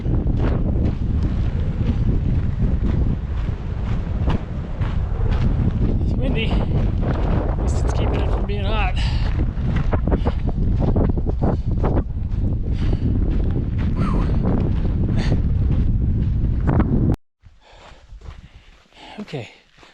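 Strong wind at elevation on the Tahoe Rim Trail during a 100-mile endurance run buffets the microphone in a continuous loud roar, with heavy breathing and movement mixed in, then drops off abruptly near the end.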